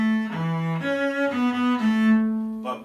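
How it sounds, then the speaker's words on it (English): A solo cello plays a tune in straight, even quavers, with clear sustained bowed notes and steady rhythm, close and moderately loud. "So if I played it without swing time, it would sound like this."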